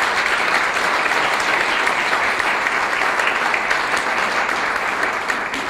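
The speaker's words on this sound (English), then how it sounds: "I want to give all of them a round of applause" A hall audience at a 2013 Citizen of the Year and youth awards ceremony applauds the event's ambassadors, giving steady, loud, continuous clapping that holds evenly throughout with no talk over it.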